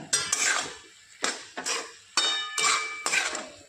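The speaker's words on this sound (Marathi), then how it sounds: "झाकण उघडून बघूया" Metal pot lid lifted and clattered against a cooking pot while dangar bhaji cooks on low gas, several sharp metallic clanks and scrapes in quick bursts, close and moderately loud with no talk.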